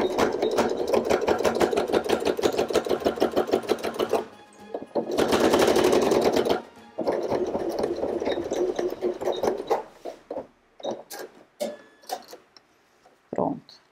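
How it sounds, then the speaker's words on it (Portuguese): A sewing machine stitches along the edge of a fabric Christmas tree in close, loud bursts of rapid mechanical chatter, pausing briefly between runs and ending in a few short, separate stitches and clicks. "nós vamos passar uma costura aqui na beirada."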